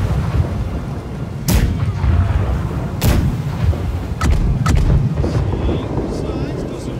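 Several heavy booming ship cannon blasts from the video game Blackwake fire in succession at a galleon, with sharp cracks between, over a constant low rumble and faint voices.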